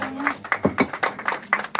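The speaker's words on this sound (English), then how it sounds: "round of applause, y'all." An audience at a lounge talent showcase applauds with scattered, irregular claps at moderate volume, and voices are mixed in.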